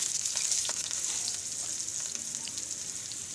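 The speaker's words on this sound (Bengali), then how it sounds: "কড়াইয়ের মধ্যে আমি দিয়ে দিয়েছি 2 চামচের মতো সাদা তেল, আর দিয়ে দিচ্ছি 5 ফোড়ন আর 5টা কাঁচা লঙ্কা চিরা।" Panch phoron and slit green chillies sizzle in about two spoons of white oil in a kadai, a steady close crackling hiss with scattered small pops and no talk.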